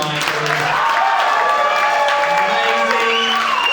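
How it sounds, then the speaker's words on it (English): An audience at a Nerd Nite live event claps and cheers for a performer, a continuous crowd roar heard beneath overlapping voices and a sustained musical tone. "Can we give one more round of applause for Michael?"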